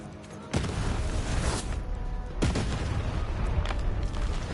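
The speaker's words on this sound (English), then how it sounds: "I need to get another of these bomb cards. This bomb card is carrying me." Two deep, booming blasts from bomb card explosions in a video game, the first sharp and loud, the second a little later, each trailing into a rumbling roar under a busy game soundscape.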